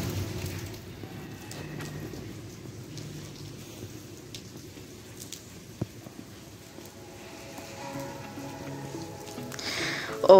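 Steady rain pattering on surfaces, a dense soft hiss throughout with a few sharper drops and a louder rustle at the very end.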